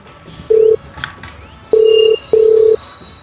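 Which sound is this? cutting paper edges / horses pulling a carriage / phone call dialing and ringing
phone call dialing and ringing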